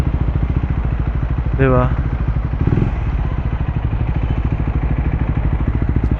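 A Triumph Speed 400 motorcycle fitted with a Muff City slip-on exhaust idles close by with a steady, rapid throbbing pulse. A brief voice and a short rev-like swell occur near the start.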